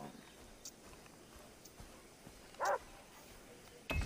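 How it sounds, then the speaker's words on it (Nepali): Dogs in the video game Far Cry 3 give two faint, distant barks over a low, steady game ambience. "कुकुरहरू भोक्नु थालिसक्यो कुकुरहरू भोक्नु थाल्यो सुन्नु हुँदैछ नि"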